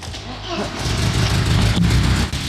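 An old car engine with a worn-out carburetor, prone to stalling, turns over and runs with a low, rough rumble close by, steady and loud, while voices talk over it.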